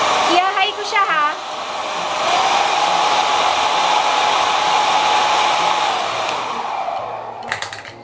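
A JMW Professional hair dryer switched to high blows with a loud, steady broadband whoosh that holds for several seconds and then cuts off near the end, with brief voice sounds at the start.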